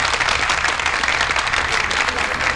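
Audience applause at a children's karaoke gala concert, a dense, steady burst of clapping from a crowd in a hall, fairly loud, with no talk over it.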